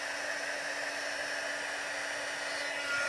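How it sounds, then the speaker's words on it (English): A heat tool warms embossing powder on a card, giving a steady, even blowing whir like a hair dryer that holds unchanged throughout at moderate level, with no talk. "I'm just going to put my heat tool on"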